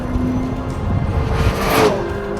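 A McLaren P1 hypercar accelerates on a test track in race mode, its engine a steady, loud roar whose pitch climbs toward the end, heard from inside the car.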